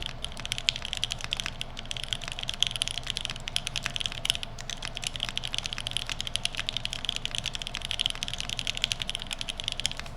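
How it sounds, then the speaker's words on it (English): Steady rapid keystrokes on a computer keyboard, close and continuous, picked up by an affordable Fifine USB microphone from a top-down angle with a fan humming underneath. "how well it picks up keyboard sounds"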